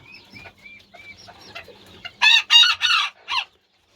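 A rooster gives a loud, close crow in several strong bursts, after softer, scattered clucking from the hens.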